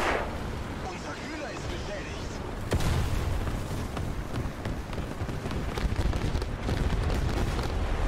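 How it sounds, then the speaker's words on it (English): Artillery shells land in a tank battle video game with a sudden heavy boom, then a sustained rumbling roar of blasts and crackling debris that stays loud for several seconds. "Let's go ahead and drop artillery on this guy."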